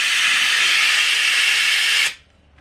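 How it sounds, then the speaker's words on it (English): Aerosol brake parts cleaner blasts in a loud, steady hiss onto a hydraulic fitting on a Steiner 430 tractor transaxle, holding close and constant for about two seconds before cutting off abruptly, followed by faint residual dripping quiet. "You want a brake parts cleaner. Just give that a good blast."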